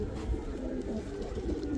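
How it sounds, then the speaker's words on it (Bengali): Khaki silver-pattern Giribaz high-flyer pigeons cooing in a cage, soft repeated low coos close by, continuous and gentle with no talk over them. "খাকি কবুতর, সিলভার প্যাটার্ন"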